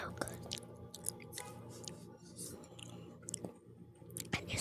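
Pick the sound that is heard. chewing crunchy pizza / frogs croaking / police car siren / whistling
chewing crunchy pizza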